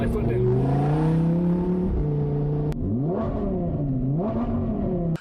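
A Lamborghini Huracan EVO Spyder engine revs hard, rising in pitch, then climbs again in two more quick surges, loud and close.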